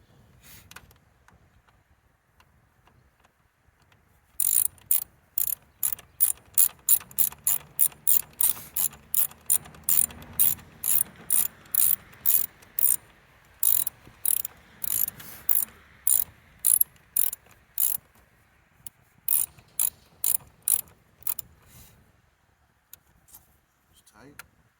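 A ratchet wrench tightening spark plugs on a 2016 Jeep Compass engine, a long run of rapid, evenly spaced metallic clicks up close, with some low background murmur.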